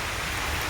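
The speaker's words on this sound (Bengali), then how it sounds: "তো বৃষ্টি এসে গেল" Rain falling in a bird sanctuary in Kolkata makes a brief, dense, uniform hiss of drops close by.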